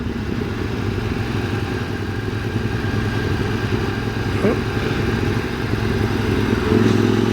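A motorcycle engine drones steadily as the bike rides a Pyrenees mountain road near Col d'Aspin and Peyresourde, with rumbling mechanical noise and wind, rising slightly near the end.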